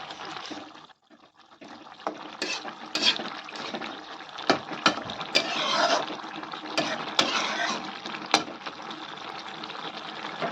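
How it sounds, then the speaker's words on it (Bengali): Fried fish pieces going into an onion-flower fish curry and being stirred, with watery sloshing, scraping and a few sharp knocks of a spoon against the pan, fairly close and continuous. "মাছগুলো দিয়ে ভালো করে নেড়ে দেবো"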